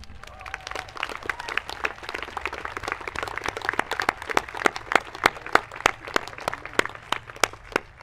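Applause from a seated audience at a school's opening convocation, honoring two newly invested head prefects: dense, steady clapping with sharp individual claps standing out, sustained for the full stretch at moderate loudness.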